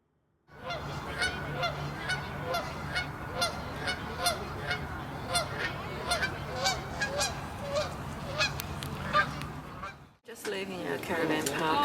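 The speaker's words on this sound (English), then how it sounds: "These beautiful Canadian geese are local residents of our camp near Ottawa." A flock of Canada geese honk repeatedly near a camp outside Ottawa, many overlapping calls in a busy, steady chorus that cuts off briefly near the end before resuming.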